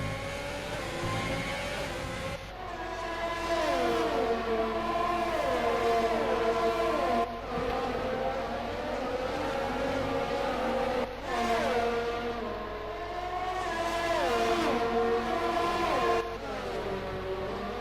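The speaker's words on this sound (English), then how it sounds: "listen to that Ferrari engine" A Ferrari Formula 1 car engine in F1 2020 at the Canadian Grand Prix, loud high-pitched whine rising through gears in long sweeping pitch climbs, broken by short gaps at each shift, heard alone without talk.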